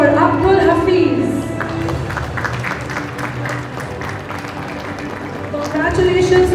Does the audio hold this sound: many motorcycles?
no